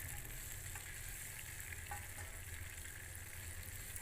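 Chicken pakoda frying in hot oil while being stirred, a steady close sizzle that runs without a break, with a few soft scraping touches from the stirring and no voices.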